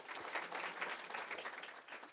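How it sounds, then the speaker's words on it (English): Faint, thin applause from a conference audience after a panel discussion, fairly distant and soft throughout the short stretch. "Yes, round of applause for the panel."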